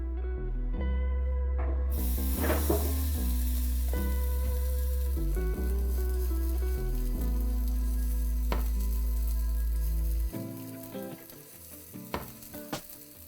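Moroccan baghrir pancake batter fries steadily in a pan, a continuous close sizzle that runs unbroken for about ten seconds before quieting into faint crackles.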